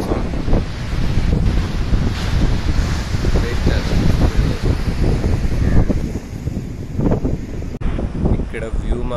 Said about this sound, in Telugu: కానీ ఫుల్గా గాలి, సో వాయిస్ అంత క్లారిటీగా వినపడకపోవచ్చు.